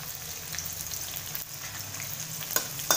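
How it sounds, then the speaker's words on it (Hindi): Sliced onion sautéing in a pan with garlic: steady close sizzling and frying with occasional stirring scrapes and clatters, no voices. "इसे हल्का सा सौते करेंगे"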